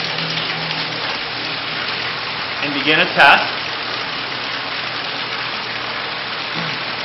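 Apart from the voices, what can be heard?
water flowing through Bradley Navigator thermostatic mixing valve test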